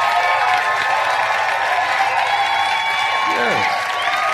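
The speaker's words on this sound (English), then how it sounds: "don't you think you deserve a round of applause?" Congregation applauding during a church sermon: a broad, sustained wash of clapping and cheering from a crowd, steady and fairly loud, with voices and a brief vocal shout near the end.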